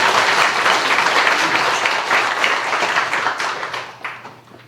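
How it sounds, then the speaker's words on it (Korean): A church congregation at a Sunday Easter service claps together in a dense, sustained round of applause that fades toward the end. "우리 하나님 앞에 감사와 영광의 박수 올려드립니다."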